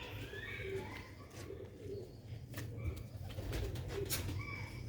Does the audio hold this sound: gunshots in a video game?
no